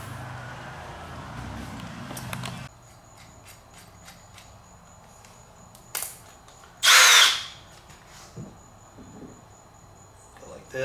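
Power drill boring screw holes through the plastic of a Member's Mark pool lounger, a brief loud whirring burst near the middle, with a shorter buzz before it and a steady insect-like chirping hum underneath.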